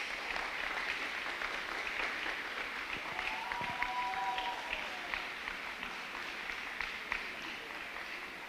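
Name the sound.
audience applause at graduation ceremony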